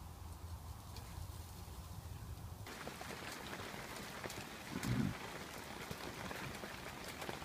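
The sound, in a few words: rain falling at a village camp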